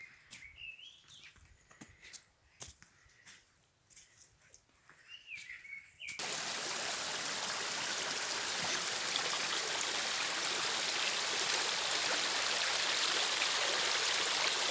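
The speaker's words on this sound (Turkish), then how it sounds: "Çox da təmiz dərə sayılmaz, kəndin içi ilə 1-2 kilometr axır." A village stream runs loud and steady, a dense broadband rush of flowing water that jumps up after about six seconds; before that, bird calls and chirps sound over a quieter, distant water murmur.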